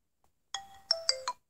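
A humorous phone ringtone plays a short electronic jingle of four bright, stepped tones, clear and close against silence, with no one talking.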